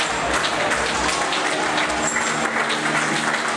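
Crowd at an outdoor strongman competition in Puumala, 2018, a steady broadband wash of applause and cheering that holds at a constant level for the whole stretch, with no clear voice standing out.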